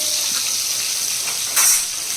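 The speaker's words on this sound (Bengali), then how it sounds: "আর এখন বসিয়েছি কই মাছ ভাজা" Koi fish frying in a pan, a steady close sizzle and hiss with a brief louder spitting burst near the end, no talking.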